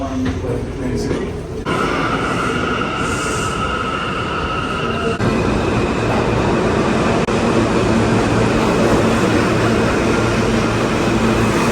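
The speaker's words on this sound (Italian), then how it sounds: "Andiamo nella stazione della metro per raggiungere il Memorial." A subway train rumbles through a New York metro station, a loud steady roar with hissing and squealing overtones that shift partway through, under a constant wash of station noise.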